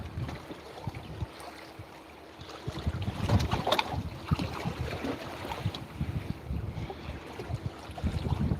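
Houseboat out on the ocean during a fishing trip, with a steady wash of water and gusting wind buffeting the microphone, rumbling low and close for the whole stretch without any talk.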